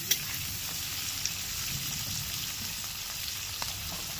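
Winter vegetables fry quietly in oil for paneer rice. The sizzle is soft and steady, with a few sharp pops now and then. Nobody speaks.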